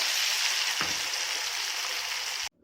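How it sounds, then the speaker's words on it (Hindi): Chicken lollipops frying in hot oil, a loud, steady hiss of bubbling sizzle up close that cuts off abruptly near the end. "इसी तरह से हमें सारी चिकन को फ्राई कर लेना है।"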